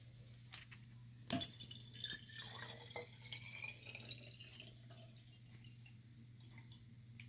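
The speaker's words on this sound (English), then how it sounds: "we're going to pour the water in" Water is poured into a cup with a trickling, dripping splash that rises after a sharp clunk near the start, then continues faint and steady over a low hum.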